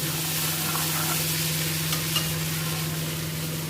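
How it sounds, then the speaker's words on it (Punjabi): Tadka tempering sizzling in hot oil in a village kitchen, a constant loud crackling hiss that holds steady for the whole clip without talk. "ਤੜਕਾ ਮੈਂ ਲਾਉਂਦੇ ਹੀ ਸੀਗੇ"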